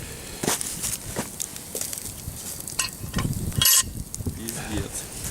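Chicken sizzling in a pot over a campfire at an outdoor picnic, with soft frying crackle, scattered metal clinks and stirring noises, and a sharp clatter midway.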